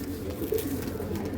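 Pencil-tailed pigeons with purple feathered feet coo softly and steadily, a low continuous murmur close by with no voices over it.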